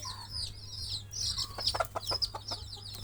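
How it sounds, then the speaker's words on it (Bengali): Pet hens and their chicks in a rural yard make repeated high chick peeps over close hen clucks, a busy, irregular run of short calls nearby under a low background hum. "এই যে পোষা মুরগি, মুরগি ছানা"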